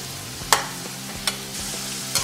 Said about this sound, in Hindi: सभी सब्जियों को हम अलग से ही फ्राई करेंगे। आलू पे अच्छे से कलर आने देंगे।